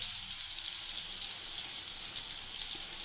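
Pointed gourd fries in oil in a pan, a steady soft hiss with a watery, bubbling texture, fairly quiet and continuous with no talking.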